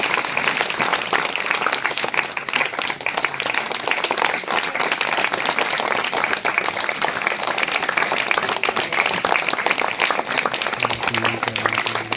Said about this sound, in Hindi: तालियों की आवाज़ कम नहीं होनी चाहिए, शायद बच्चे पंडित की तरह से ताली बजाएंगे।